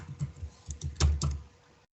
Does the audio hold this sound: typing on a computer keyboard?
yes